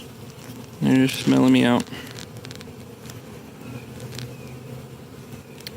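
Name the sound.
bees buzzing around a Flow Hive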